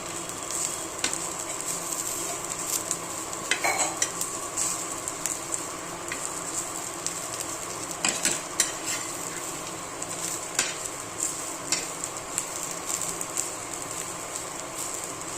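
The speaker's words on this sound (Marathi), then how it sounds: "खोबरं पण चांगलं भाजलेलं आहे ब्राऊन कलर येईपर्यंत" Grated coconut masala roasting in a pan until brown gives a steady dry sizzle and scrape of stirring, with occasional sharper clinks and scrapes, moderately close and without talk.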